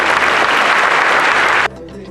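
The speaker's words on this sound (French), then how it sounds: "Merci de les applaudir." An audience at a farmers' awards ceremony gives dense, loud applause for over a second and a half. The clapping stops abruptly and leaves a quieter room tone.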